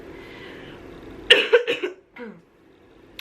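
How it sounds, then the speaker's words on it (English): A woman with a sore throat coughs several times in a close, loud burst, followed by a brief throat-clearing sound in a quiet room. "I've been coughing all throughout this video"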